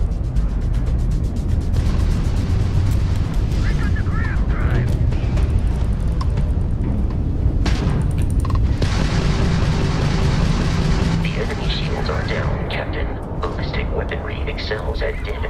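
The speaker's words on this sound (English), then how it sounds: "If you can keep the enemy ship centered on the HUD, we can lock in to fire a homing missile." Explosions and weapon fire from space combat in the Starfield video game, heavy dense booms and roaring bursts throughout, loud, mixed under a person talking.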